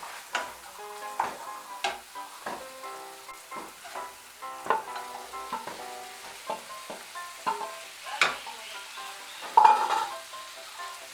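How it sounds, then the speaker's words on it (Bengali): Fried potatoes and pointed gourd are stirred with spices in a pan for a Bengali potol chingri, with a soft steady sizzle broken by repeated scraping strokes of a spatula against the metal, close and alone without talk. "মশলার সঙ্গে আলু পটলগুলো মিশিয়ে নেব।"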